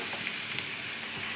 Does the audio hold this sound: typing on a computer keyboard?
no